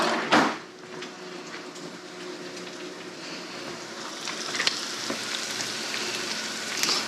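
Garlic hits a hot pan with a sharp splash, then settles into a steady, soft sizzle and crackle of sautéing that swells slightly as it cooks, heard close up with no talking.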